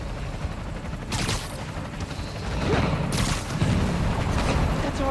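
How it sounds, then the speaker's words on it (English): Bursts of gunfire in the video game Marvel's Spider-Man: Miles Morales during a blizzard, with a couple of sharp, loud cracks rising above a constant windy, noisy background. "I need to head toward the gunfire."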